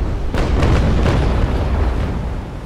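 A cannon broadside from a sailing warship in Naval Action, a heavy rolling boom with several overlapping blasts in quick succession that then rumble and fade.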